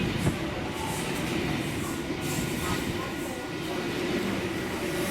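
An NSW TrainLink V set intercity train of eight cars, V29 leading, passing at Koolewong with a steady heavy rumble and rolling rail noise, loud and continuous throughout.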